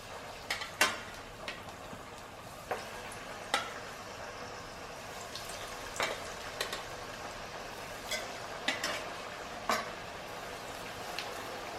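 Chana dal vadas go into hot oil one at a time and fry with a steady crackling sizzle, broken by scattered sharp clicks of a utensil against the pan.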